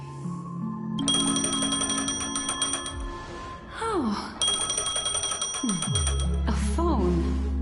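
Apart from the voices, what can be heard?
phone ringing in the video game Honkai Star Rail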